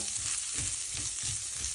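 Carrots frying in a pan of ghee for ghee rice, a constant bright sizzle with soft rhythmic pulses from stirring, close and steady throughout without any voices.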